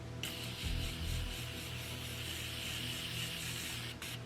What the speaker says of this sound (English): We are melting with the Morphe setting spray.